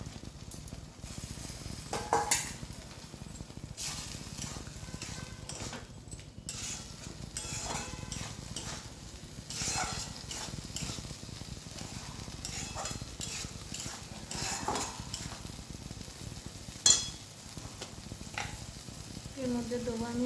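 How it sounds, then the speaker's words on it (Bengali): Sliced ridge gourd with turmeric sizzling and frying in a pan, a continuous soft crackle broken by scrapes and stirring clinks of a spatula, fairly quiet and close. "এর মধ্যে দিয়ে দেবো আমি একটু হলুদ, এবার দিয়ে দেবো আমি ঝিঙেটা।"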